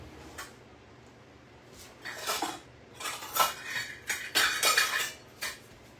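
Measuring cup scooping pre-cooked cauliflower rice into a bowl for a lunch power bowl, a run of soft scraping, clinking scoops close by, growing busier after the first two seconds, with no talk.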